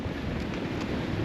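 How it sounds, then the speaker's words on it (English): Strong blizzard wind gusts at a farm roar steadily into the microphone, a loud, continuous rushing noise with no voices. "It's windy."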